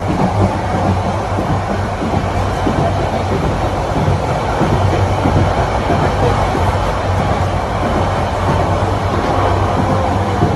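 The Cox's Bazar Express rolls steadily along the rails from Dhaka to Cox's Bazar, a continuous low rumble with rhythmic wheel clatter, close and fairly loud throughout.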